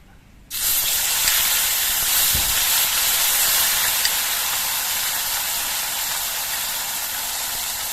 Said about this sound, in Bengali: তো এই পেঁয়াজ বাটাটা কিছুক্ষণ ভেজে নিতে হবে